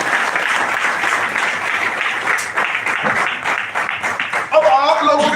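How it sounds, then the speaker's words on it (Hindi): Seminar audience applauding loudly and steadily in a hall, a dense wash of clapping from many hands that continues throughout, with a voice speaking over it near the end. "एक बार जोरदार वाली ताली कीजिए।"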